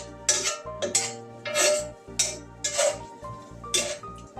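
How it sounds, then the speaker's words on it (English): A spoon stirs a thickening mixture in a pot, giving a series of close metallic scrapes and clinks in an uneven rhythm, each stroke distinct and fairly loud. "Mix it up really good."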